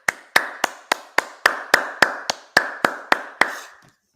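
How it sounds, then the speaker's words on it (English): Twelve sharp, evenly spaced hand claps ring out alone in a church Sabbath service, loud and close with a short tail after each, stopping abruptly after about three and a half seconds. "Let's clap that up."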